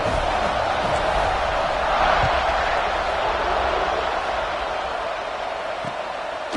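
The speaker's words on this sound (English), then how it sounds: "this crowd is buzzing after that last score" A large college football stadium crowd buzzing after a touchdown, forming a dense, steady roar of many voices that stays loud and even throughout.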